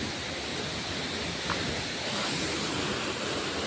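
Bari Waterfall in a village setting, a steady broadband rush of falling water filling the scene at even loudness, constant and unbroken with no voices.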